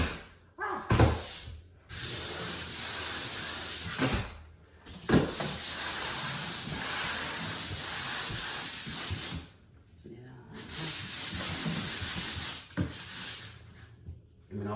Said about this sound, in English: I'm burning through this paint really quickly with the sandpaper